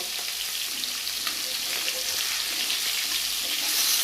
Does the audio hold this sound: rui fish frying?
yes